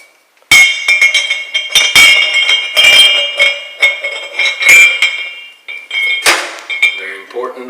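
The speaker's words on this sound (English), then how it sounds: "going to start off here by assembling the grinder" Metal parts of a sausage meat grinder clink and clatter as they are assembled: loud, close, ringing knocks and taps in an irregular series, with a short scraping sound near the end.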